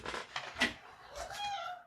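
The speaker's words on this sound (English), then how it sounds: "Meow, meow, meow, meow. You're very loud." A cat meows insistently at close range, a few short plaintive cries followed by a longer drawn-out wail, fairly loud against a quiet room.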